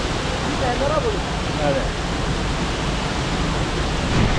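A waterfall at Kolukkumalai amid rain and mist produces a constant broadband roar throughout, with people talking briefly over it.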